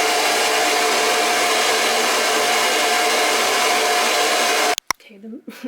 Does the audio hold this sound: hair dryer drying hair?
yes